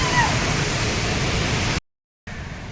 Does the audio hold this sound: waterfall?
yes